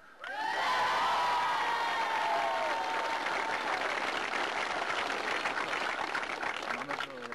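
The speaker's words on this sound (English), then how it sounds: "I'd like you to put a round of applause to a native Monaghan man and his three men beside him, Sir Paddy Bates" A crowd at an Ulster Junior Football Championship final applauds and cheers for Sir Paddy Bates, with whoops and shouting children over sustained clapping, somewhat distant.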